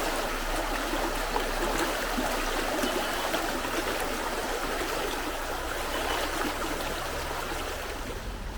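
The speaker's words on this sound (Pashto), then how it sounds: "اوبه را روانې دي" Water flows steadily along a village irrigation channel in Maidan Wardak, Afghanistan, a continuous close trickling and rushing that stays even throughout with no talk.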